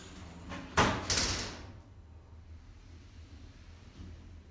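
Lift doors in a Southampton building slide shut with a couple of loud rumbling thuds close by, followed by a quiet hum.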